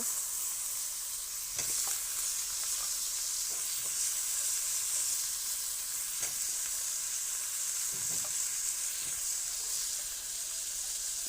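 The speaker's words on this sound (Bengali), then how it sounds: "কষিয়ে নিচ্ছি মাছের তরকারি রান্না করব" Fish curry spices sautéing in a pan, a steady loud sizzle throughout with occasional soft scrapes and taps of a stirring spoon, close and unbroken, no voices.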